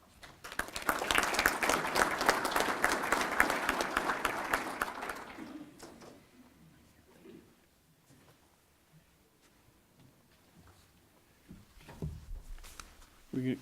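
Loud, sustained applause from an audience at a grain bin safety week kick-off event, filling the first half then fading out, followed by quieter room noise and a few scattered sounds.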